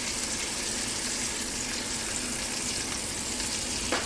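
Ribeye steak fat rendering in a cast iron pan, a dense, continuous close-up sizzle and crackle holding steady throughout with no voices.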